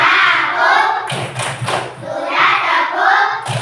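A primary school class performs the rhythmic 'tepuk diam' clapping chant: voices chant together loudly while bursts of hand claps punctuate the middle of the chant.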